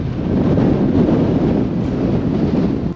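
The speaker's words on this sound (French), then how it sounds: "il y a des rafales tellement fortes" Loud, constant wind roar through an open window at the North Cape, Norway, buffeting the microphone in a low rumble, strong and unbroken throughout, no talking.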